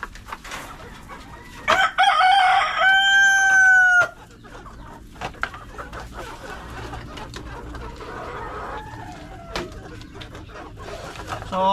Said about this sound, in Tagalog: Magpapakain tayo ng mga manok natin,